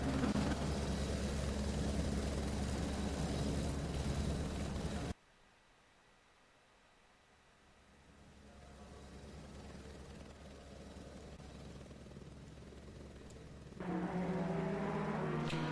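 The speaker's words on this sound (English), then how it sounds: "The sound of the helicopter is really bad, actually." A loud, steady whirring helicopter drone with engine noise in a racing video game, dropping sharply to a quieter hum partway through, then swelling back up near the end.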